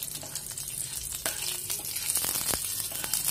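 Nigella seeds and green chilies sizzle in hot oil with a steady crackling hiss and scattered sharp pops, close and continuous, while preparing a prawn and pumpkin dish.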